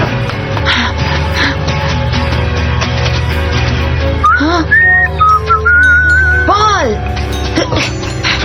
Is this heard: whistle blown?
yes